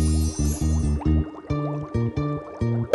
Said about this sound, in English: Rainbow water. Tap to add to the cauldron.